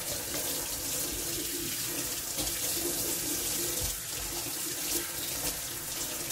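Tap water runs steadily from a kitchen faucet while the faucet body is scrubbed clean after dishwashing, a continuous close rushing flow with no talking.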